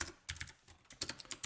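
Keys clatter on a computer keyboard in quick irregular bursts with a short pause between them, close and moderately loud.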